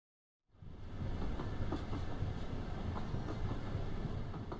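A train rolls along rails in the video game Duet Night Abyss, a steady rumbling clatter that starts abruptly and continues at an even level, with no speech.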